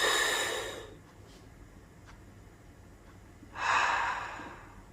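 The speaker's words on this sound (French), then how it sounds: "C'est la respiration calme qui détend, ce n'est pas la nicotine." Slow, calm breaths taken as if drawing on a cigarette, two long airy exhales at the start and end with a quiet pause between, close and alone without talk.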